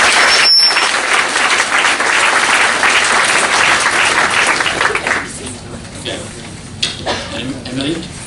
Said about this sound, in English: let's have a round of applause for it